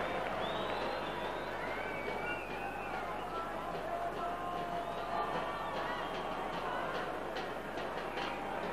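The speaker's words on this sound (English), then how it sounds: "The crowd, well, almost all the crowd like that." A rugby union crowd at a 1991–92 County Championship match between Cornwall and Lancashire keeps up a distant, steady murmur and cheer, heard faintly from afar with no commentary over it.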